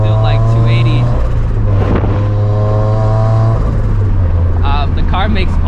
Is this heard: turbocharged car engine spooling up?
yes